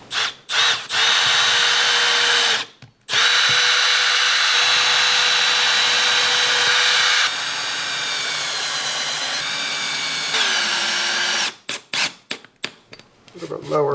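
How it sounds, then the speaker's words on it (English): Power drill pre-drilling and driving screws into wood during home renovation work, with long steady whirring bursts, a brief pause, then a run of short stop-start pulses near the end; a voice speaks briefly over it. "I think I'll pre-drill it, screw it down"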